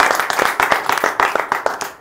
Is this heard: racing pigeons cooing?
no